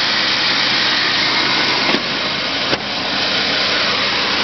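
A 1989 GMC S15 Jimmy engine idles after a cold start at -20°C with no charger or block heater, giving a steady, loud, even drone with two brief clicks partway through.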